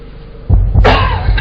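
A single harsh cough bursts out close and loud after a moment of quiet, followed by a breathy rasping exhale.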